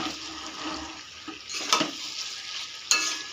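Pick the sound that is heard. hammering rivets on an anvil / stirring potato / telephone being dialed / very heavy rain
stirring potato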